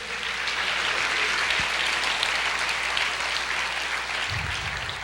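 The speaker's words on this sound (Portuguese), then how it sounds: "Você pode aplaudir o Senhor" A church congregation applauds, a dense, continuous wash of clapping from many hands filling the room, steady and loud throughout.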